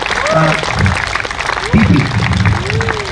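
A crowd applauds at the awards ceremony after a cricket tournament final, a thick, steady wash of clapping that runs the whole time with voices and tonal sounds over it.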